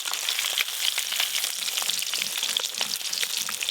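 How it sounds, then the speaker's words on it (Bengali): Silver carp pieces frying in hot oil in a pan, a steady dense sizzle with crackling pops running throughout, close and fairly loud, with no talking. "মাছ এইভাবে লাল লাল করে ভেজে নিয়েছি"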